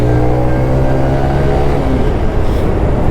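A Suzuki Van Van 125 motorcycle engine runs steadily at close range, a loud, even idle with a constant low hum throughout and no voices.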